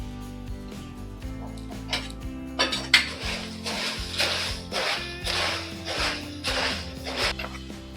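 A spoon scrapes and clinks against a metal pan while puffed rice chevdo is stirred, with a rhythmic series of scraping strokes and metallic knocks over a faint hum, no talking.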